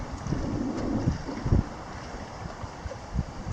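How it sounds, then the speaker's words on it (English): Strong wind sweeps across a lake in the Boundary Waters wilderness during a July storm, with low, blustery rumbling and buffeting gusts hitting the microphone. It is steady and close, with no voices. "The wind is just getting horrible."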